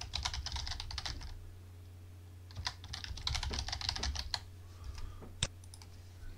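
A computer keyboard clatters as a password is typed, with steady close bursts of keystrokes, a short pause, then more typing ending in a single sharp keypress.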